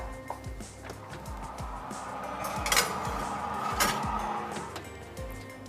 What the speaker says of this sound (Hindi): तो जनाब इसको हम अब रख देते हैं ओवन में बेक होने के लिए